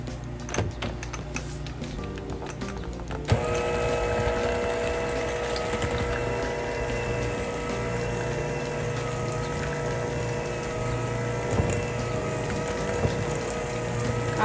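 A mixer slowly blends cream cheese, baking powder, salt, pepper and eggs in a bowl, starting with a scraping, knocking bowl sound and then switching to a steady motor whir that continues to the end.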